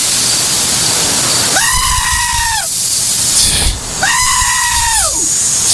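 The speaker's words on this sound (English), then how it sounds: "These are all goats, ladies and gentlemen," Goats bleating loudly and close, two long wavering cries in succession with a brief burst of noise between them, over a constant background hiss.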